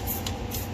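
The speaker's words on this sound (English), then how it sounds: "So just spray some soap and water on everything." Short bursts of soapy water sprayed from a hand sprayer onto an oily hydraulic system, two soft hissing puffs over a steady low background hum.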